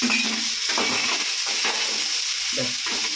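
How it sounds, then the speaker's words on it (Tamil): Ginger and garlic fry in a pan for brinji rice, with a close, steady sizzle broken by a few scraping stirs of a spatula. "இஞ்சி பூண்டு சேர்த்தா ஆமாம் கொஞ்சம் வதங்கட்டும் நல்லா வதங்கட்டும்மா"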